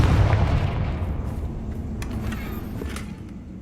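A Confringo blasting spell explodes in the video game Hogwarts Legacy, a heavy, close boom with a long rumbling tail and a few faint crackles as it dies away, with no talking.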